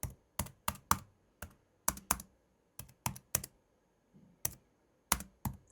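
Someone types on a MacBook Air Magic Keyboard, producing crisp, close key clicks in uneven bursts with brief gaps, alone in a quiet room.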